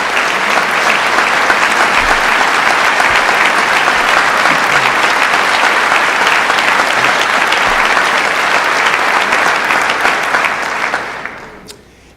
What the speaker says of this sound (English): let me ask the Western New York delegation to stand just so we can give them a round of applause